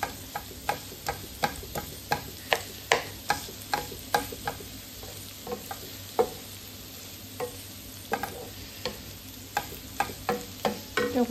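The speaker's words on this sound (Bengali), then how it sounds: "ডিম দিয়ে ভাজি করছি" Snake gourd and egg stir-fry frying in a pan, a steady soft sizzle broken by regular sharp clicks of a spatula scraping and tapping the pan, with no voices.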